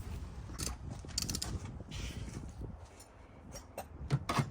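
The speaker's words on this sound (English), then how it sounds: "Now we're gonna go ahead and torque the bolts up on top." A torque wrench tightens the top strut bolts on a 2001–2006 Acura MDX during a front strut replacement. It gives a few quick ratcheting clicks and metallic clanks that are close but faint, with quiet gaps between.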